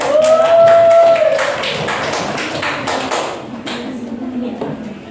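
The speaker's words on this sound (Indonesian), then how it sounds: "Ya, tepuk tangan untuk teman kita yang" Students in a classroom clap for a classmate in a brief burst of applause, loud at first and fading over a few seconds while a teacher's voice speaks over it.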